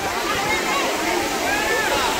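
The Chingara Pagaar waterfall in Gariaband district pours from a height, giving a steady, dense roar of rushing water that stays close and constant throughout.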